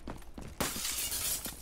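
Breakable object in Call of Duty: Black Ops III shatters when run into, a sudden loud crash of breaking glass-like debris that rings on for about a second after some quieter in-game sounds.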